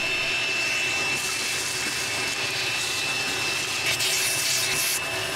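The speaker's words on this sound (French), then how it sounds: "je me suis rué vers la station de lavage pour remplir un de leurs aspirateurs de milliers de morceaux de verre" A car wash vacuum sucks up thousands of pieces of broken double glazing from a BMW 750iL V12 after ten years in a field, a steady loud whooshing drone with gritty rattling bursts of glass fragments.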